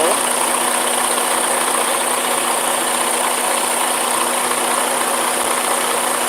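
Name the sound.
truck engine starting and idling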